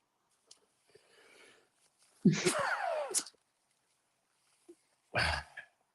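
A single person sneezes with a sharp, forceful burst, followed a little later by a second short sneeze or snort, close up in a quiet room with a few small rustles before it.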